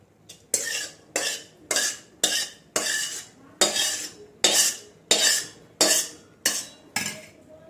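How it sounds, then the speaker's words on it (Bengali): Goat meat curry with carrots, beans and garam masala stirred in a pot, about a dozen evenly spaced scraping strokes of a metal spoon, close and distinct with brief pauses between. "আমি এটাকে নাড়িয়ে দিচ্ছি।"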